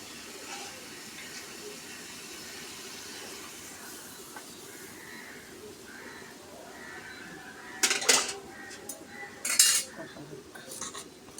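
Utensils scrape and clink in a pan while hilsa fish head sautés with vegetable stems, a soft steady sizzle underneath and a couple of sharper metallic stirring clatters near the end.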